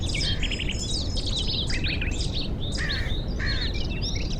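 Birds chirp and tweet continuously in the game Steelrising, many bright overlapping calls in a steady ambient chorus over a low rumbling background.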